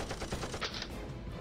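Rapid machine gun fire in a WWII aerial combat video game, Sky Gamblers: Storm Raiders, a steady fast burst of shots with a louder blast partway through, close and continuous, no talking.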